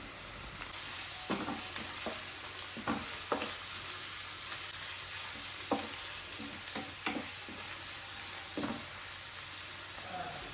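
Tomato with ginger, garlic and green chili paste sautéing in a pan, with a steady sizzle and repeated scraping stir strokes at uneven intervals, close and alone.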